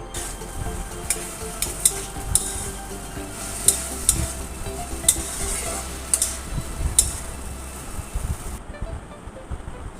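Dried fish and salt sizzle and fry in a pan while a utensil stirs them, with a steady crackle and sharp metallic clinks every second or so, close and continuous for about ten seconds; no talking.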